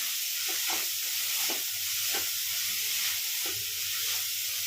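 Carrot pachadi sautéing in coconut oil with salt added: a steady hiss of frying is broken by regular scraping strokes of a spoon stirring the pan. There is no speech.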